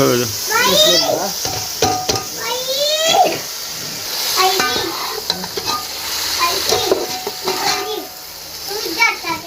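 Macaroni is stirred into a sizzling tadka in a pot, with a frying hiss and utensil scrapes heard under chatter from adults and a child nearby.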